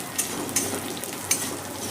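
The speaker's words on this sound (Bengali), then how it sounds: "কাজু, পেঁয়াজ, শুকনো লঙ্কা, রসুন ভালো করে ভাজা হয়ে গেছে" Cashews, onion, dried red chilies and garlic fry in hot oil in a pan, a steady close sizzle with a few light clicks of a stirring spoon against the metal.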